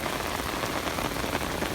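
A short burst of rain pours down outdoors while fishing, loud and close, with a constant dense patter of drops.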